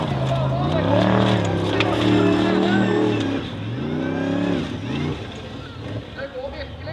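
Formula Offroad racing car at a Norwegian championship round on a KNA Telemark track, engine revving and accelerating loudly with rising and falling pitch sweeps, while a commentator talks over it throughout.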